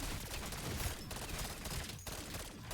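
Rapid gunfire from the 9 Maverick burst weapon in BO7 Zombies, a dense, continuous stream of loud, close shots with barely any pauses.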